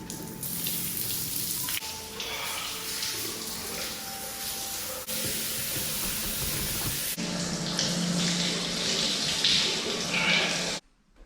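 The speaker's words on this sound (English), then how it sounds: "Time for a pre-rinse shower." Shower water runs steadily for a pre-rinse at a sensory deprivation tank facility, a loud, continuous close hiss and splash that shifts slightly in tone partway through, then cuts off abruptly at the end.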